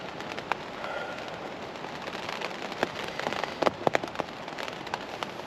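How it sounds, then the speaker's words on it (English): Rain falls steadily on a tent during heavy-weather wild camping: a dense close patter with sharp individual drops tapping the fabric, growing busier toward the end, with no voices. "I do love rain on a tent."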